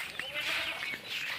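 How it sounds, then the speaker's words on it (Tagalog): Native goats bleat at close range on a farm, several wavering calls overlapping one after another, with people faintly talking in the background. "Kasi tingnan namin kung pwedeng maibenta na yung mga kambing ni Ma'am Che."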